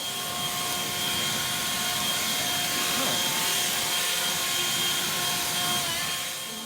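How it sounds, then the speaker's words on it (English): A leaf blower runs steadily at an archaeological stone site in Maine, a loud continuous roaring whoosh that swells slightly and fades toward the end. "That essential tool of archaeology, the leaf blower."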